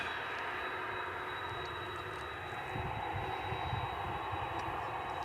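Qantas Flight 8 airliner passing over DFW Airport, a faint, steady distant jet roar with a hissing broadband wash that swells slightly near the end, no voices.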